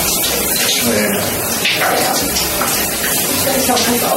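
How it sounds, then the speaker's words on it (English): Shower water runs in a steady, loud hiss and spatter close by, with voices talking over the flow. "It's kind of hard to hear with the shower going."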